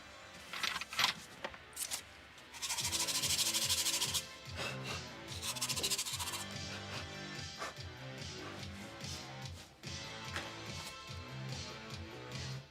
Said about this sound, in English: This one definitely needs sanded.